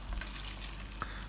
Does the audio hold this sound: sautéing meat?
yes